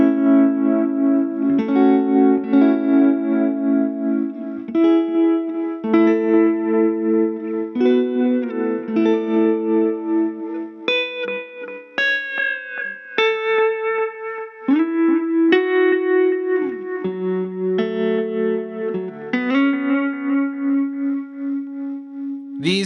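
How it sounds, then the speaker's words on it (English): Electric guitar runs through a BBE Tremor tremolo pedal with a faux tape echo and a preamp, at first slow and then fast but with very shallow depth, playing sustained melodic notes and chords with a soft, steady pulse and echo tails and no talking. "I started slow and then switched over to a fast setting, still keeping the depth really, really low."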